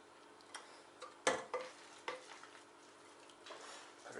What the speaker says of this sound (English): I'm just gonna scoop it all into here and mix it up